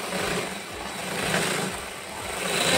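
A sewing machine runs steadily at home, a continuous mid-level mechanical whir with no pauses across the whole stretch.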